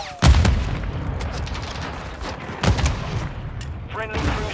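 Gunfire and booms from the Warzone 2 video game rattle close and loud in bursts, with a heavy blast at the start and another midway, mixed with game voice callouts.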